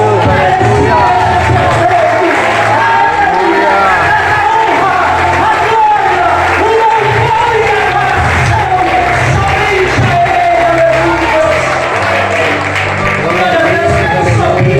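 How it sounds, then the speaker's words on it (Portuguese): A church congregation at a Tuesday special service claps and cheers loudly and continuously, a dense crowd roar with shouts and whoops throughout. "fique de pé e dê mais um lindo louvor de palmas"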